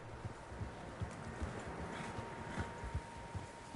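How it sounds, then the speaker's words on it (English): Several horses' hooves clip-clop at an uneven pace in the Red Dead Redemption II video game, a steady low patter of footfalls beneath a faint tonal hum. "Horses, quite a few of them."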